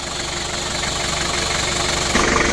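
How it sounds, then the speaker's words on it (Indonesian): A rebuilt Daihatsu Hiline car engine idles while warming up, a steady loud rumble with a faint knocking pulse, close by and without talk. "Alhamdulillah untuk mesin Daihatsu Highlandnya sudah hidup."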